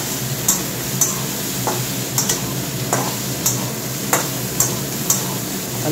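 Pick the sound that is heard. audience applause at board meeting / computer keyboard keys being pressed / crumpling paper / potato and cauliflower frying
potato and cauliflower frying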